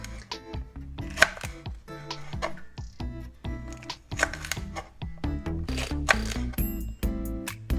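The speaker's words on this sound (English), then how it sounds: "I'm gonna do mine about a 1/4 inch thick, and we're gonna slice." Knife slicing fresh garden jalapeños about a quarter inch thick on a cutting board, a quick series of close, sharp chopping taps in irregular rhythm.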